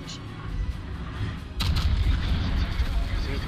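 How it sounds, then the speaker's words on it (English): The guns of the destroyer Daring fire in World of Warships, a heavy burst of booming shots that suddenly thickens into a loud, continuous rumble partway through, with team chatter over it. "Daring is shooting"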